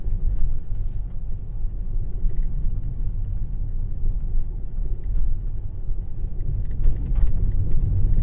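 A Tesla running Full Self-Driving V14.2.1 rolls along a snowy road, heard from inside the cabin as a steady, low road rumble and hum with a slight swell toward the end, no talking.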